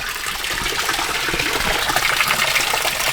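Water rushes steadily through the heater radiator pipes of an Audi 80 being flushed out, a loud, constant gushing hiss that continues without a break and with no talking.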